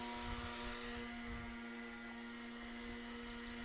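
A small K110S model helicopter hovers nearby at full throttle with a steady high-pitched motor whine and rotor buzz, continuous and unchanging throughout.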